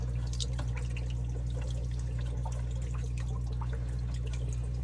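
Water from an intake tube falling through a homemade filter, a steady close-up splashing and trickling like a small waterfall, with scattered drips over a constant low hum and no talk.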